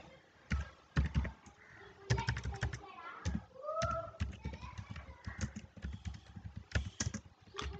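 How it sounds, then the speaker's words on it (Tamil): Quick, irregular clicks of a computer keyboard being typed on nearby, with brief pauses between bursts and faint voice sounds in the background. "அட்ரஸை கரெக்டாக டைப் பண்ணிவிடுங்க."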